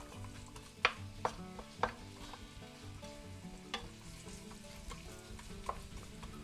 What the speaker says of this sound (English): I'm going to throw in the onions. And I used one small white onion and I chopped it.